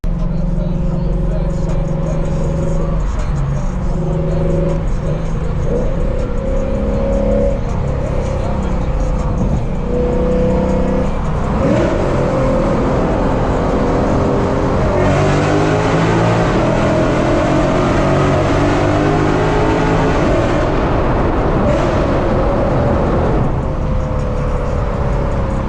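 A modified Lexus RC F of 500-plus horsepower with an FBO setup is driven hard on backroads, its engine droning loud and continuous with rising and falling revs throughout, heard from inside the car.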